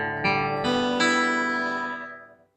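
Electric guitar in drop D tuning, low string down a full step to D, strummed chords building in three entries and ringing out alone with a slow decay.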